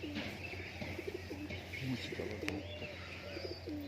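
Murshidabad standing pigeons, a male and female pair, coo softly and repeatedly at close range against a steady low background hum.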